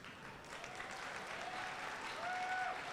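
An audience at a middle school eighth grade promotion ceremony applauds parents and guardians, steady continuous clapping from a crowd in a hall that swells slightly toward the end, with a faint tone briefly audible.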